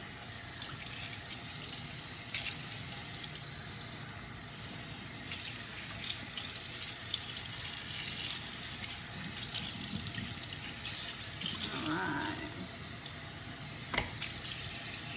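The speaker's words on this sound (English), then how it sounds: "Here we are at the sink. I'm gonna wash this kid's hair." Water runs steadily from a sink faucet during an at-home hair wash before a perm, a continuous close hiss with faint splashing and shifts as the flow hits hair, no talk.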